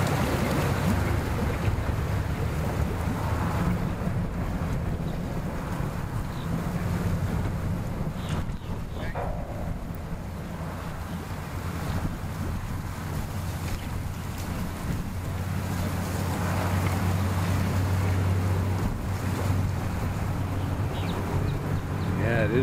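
Blustery wind roars steadily into the microphone with a low rumble, mixed with water and boat noise at a boat ramp and faint voices underneath.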